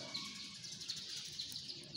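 Morning birds chirp in quick, repeated high tweets against a faint background hum, quiet and somewhat distant, with no talking.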